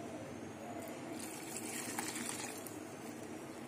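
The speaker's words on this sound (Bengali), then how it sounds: "একটু জল দিয়ে দেবো।" A little water poured into a pan of cooking bottle gourd makes a continuous close gush and bubbling hiss that holds steady for several seconds.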